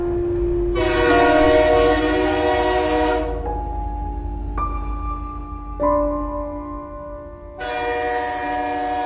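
A cartoon train horn sounds in long harmonic blasts over a steady rumble of a running train, sustained and loud, shifting pitch between blasts with a final strong toot near the end; no voices.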